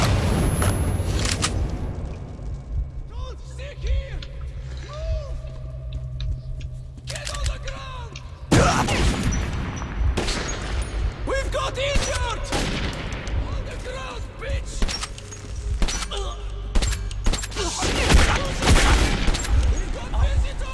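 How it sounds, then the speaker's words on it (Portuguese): Gunfire from the video game Metro 2033, with several bursts of shots and booming impacts scattered across the clip amid game ambience and sound effects, loud and close throughout. "Eu dou 3 tiros na cabeça do cara e o cara não morre."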